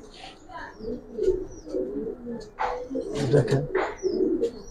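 Giribaz and coloured pigeons coo and flutter nearby in soft repeated calls, while someone talks over them.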